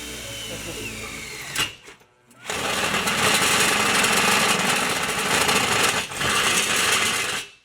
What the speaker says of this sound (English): drilling a hole in the roof